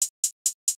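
Hit One hi-hat sample triggered with longer MIDI notes, four crisp evenly spaced hits a little over a fifth of a second apart, each with a short bright decay, heard alone.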